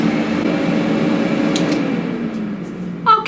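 An air fryer hums steadily while preheating, a continuous mechanical fan drone with a faint tonal whine, close and even, joined by a couple of light clicks near the end.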